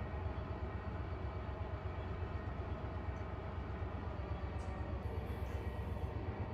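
A freight train on a local run in Run8 Train Simulator rolls along with a steady, even rumble and wheel noise that hold constant without a break, with no voices over it.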